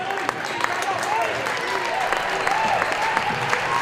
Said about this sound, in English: Some of the Panther fans on their feet applauding the girls.